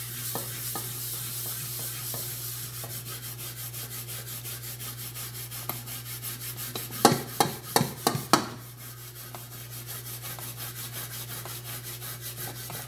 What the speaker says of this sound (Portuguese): Vou colocar aqui em cima. E vou esfregar.